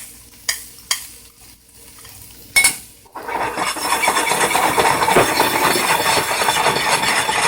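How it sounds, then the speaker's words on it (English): Garlic goes into extra virgin coconut spread in a pan for spinach. A few sharp clinks of a utensil on the pan come first, then a steady, close sizzle of frying that continues to the end. "I'm using some extra virgin coconut spread, and I'm just adding some garlic to that"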